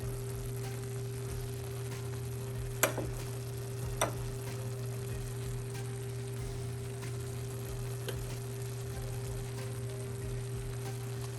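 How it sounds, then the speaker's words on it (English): Seasoned ground meat for chili browning in a pan, a soft steady sizzle with a faint hum and a couple of sharp clicks or scrapes, quiet and close. "I'm going to mix it in and allow the meat to continue to brown"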